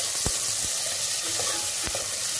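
Chopped tomatoes and bird's eye chili cooking in a pan for a fish curry, a constant close sizzle broken by a few sharp spatula scrapes and taps.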